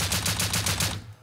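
Rapid automatic gunfire in a video game, a tight burst of about eight evenly spaced, loud shots over one second before cutting off.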